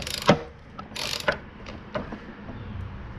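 Ratcheting clicks while the blade bolt is tightened on an Echo 2620 edger, a few sharp mechanical clicks and a brief buzzy burst up close, then quieter scattered ticks.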